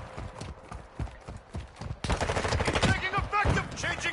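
Rapid gunfire from the Call of Duty Modern Warfare video game crackles in dense bursts, growing louder and busier halfway through, mixed with shouted game callouts and other battle noise.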